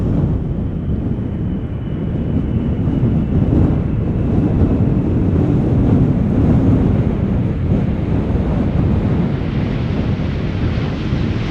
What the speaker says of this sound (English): can definitely see that the wind is picking up a little bit